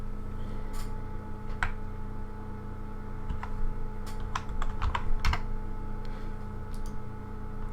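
Keys clatter on a computer keyboard as a command is typed, irregular clusters of taps over a steady low electrical hum, close by with no talking.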